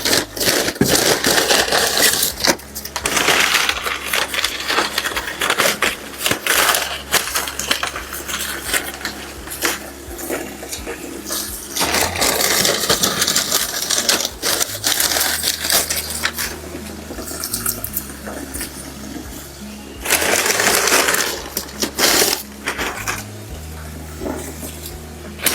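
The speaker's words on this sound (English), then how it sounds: "I'm just going to fill the pail up with some water and put them in." Water runs into a pail while dried canna lily bulbs are dropped in, giving bursts of splashing and pouring broken by clattering knocks and hollow thumps, close and uneven over about twenty-five seconds.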